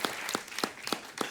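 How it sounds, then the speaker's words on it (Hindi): A studio audience claps in slow unison, five evenly spaced claps, fairly faint, with no talking. "जोरदार तालियां तोशी और शारिब के लिए"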